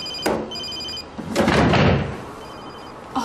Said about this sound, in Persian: موبایلتون آقا.